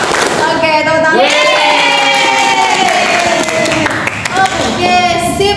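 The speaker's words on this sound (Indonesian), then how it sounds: "Oke, tepuk tangan." A group of university students claps and cheers loudly during a classroom guidance session, with brief energetic applause and shouting voices over tonal sounds, fairly close and lively.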